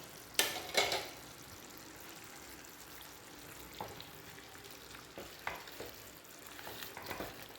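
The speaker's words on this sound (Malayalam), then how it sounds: "നമുക്കിത് ഇളക്കി കൊടുക്കാം" Chicken cooking over a medium flame is stirred in a pan. A few clattering scrapes come early, then a low, steady sizzle runs under occasional soft stirring knocks.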